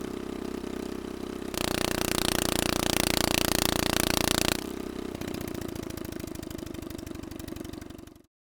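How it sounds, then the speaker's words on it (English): A real engine runs close and steady, first idling with no load, then swelling louder under full load at the same RPM for a few seconds, before dropping back to a lighter, pulsing drone. "Notice the difference in absolute magnitude between the engine running with no load and when fully loaded"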